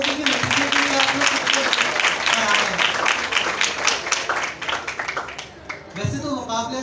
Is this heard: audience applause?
yes